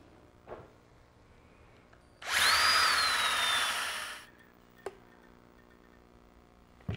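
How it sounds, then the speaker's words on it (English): A power drill whirs loudly for about two seconds drilling a hole in wood, its pitch rising then settling, bracketed by a few quiet clicks and taps. "I want you to drill a hole on the bottom and a counterbore"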